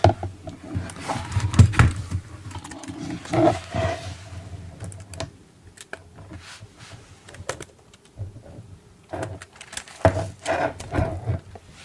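A cat named Rüdiger walks across a computer keyboard, giving scattered soft key clicks and patters in uneven bursts, close and quiet, with some faint background rustle.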